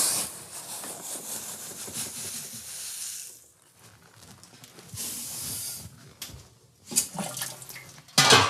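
Water and grain pour into an ale mash, giving a steady hissing rush that drops away midway, then returns with clattering and splashing at the end; no voices.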